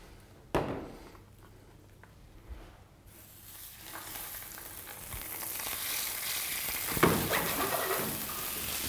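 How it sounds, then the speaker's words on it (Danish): Chicken frying in olive oil in a very hot pan, starting with a few knocks and clatters, then swelling into a loud, steady sizzle close by. "Og steger på en meget varm pande med olivenolie."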